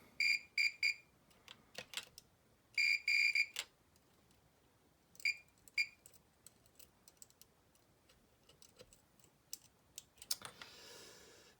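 Multimeter continuity tester beeping while probing contacts on a Lansay Game and Watch style LCD handheld game under repair; short high electronic beeps come in quick bursts of two or three, separated by clicks and handling noise, no talk.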